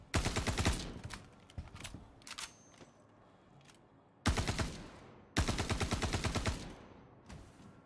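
Rapid automatic gunfire from a Star Citizen shootout rattles in loud, close bursts, with one long volley, a pause of scattered single shots, then two more sustained bursts.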